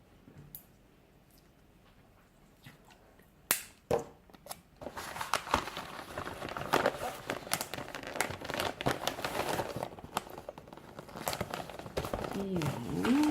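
Sticky tape crinkles and peels in quick irregular bursts while a small gift is wrapped, with sharp crackles and snaps close by and a voice faintly present in the background.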